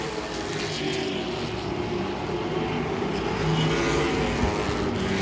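Late model race cars lap Langley Speedway in the final laps of a race, their engines producing a steady, loud, continuous roar with a slight swell near the end. No talk is heard.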